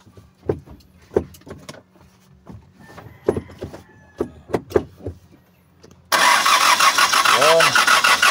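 D4CB engine in a Bongo-type vehicle being cranked repeatedly without catching, a series of uneven starter whirs and clunks with talk, then a loud steady noise at the end.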